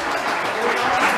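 Audience applause at an Aalst carnival ceremony, a brief dense burst of clapping from a crowd indoors, steady and moderately loud throughout.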